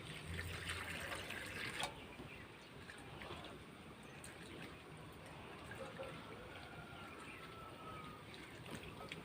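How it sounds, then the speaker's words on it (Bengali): Water poured into a pan of dry-roasted dal, a soft steady trickle and splash at low level, close by, with no talking. "এবার আমি জল দিয়ে দেব।"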